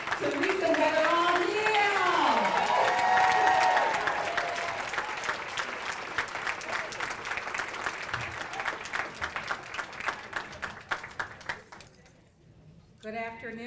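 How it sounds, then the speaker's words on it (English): A school community audience at a Grand Rapids Public Schools parent engagement kickoff claps loudly and steadily alongside voices and cheering, and the applause thins to a few scattered claps near the end. "Come on, applaud our community partners, applaud everybody."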